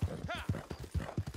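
Horse hooves clip-clopping at a gallop in the video game Red Dead Redemption, a steady rhythmic pounding of near, loud hoofbeats with a brief whinny-like snort early on.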